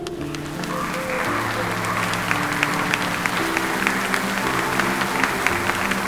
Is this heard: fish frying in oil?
no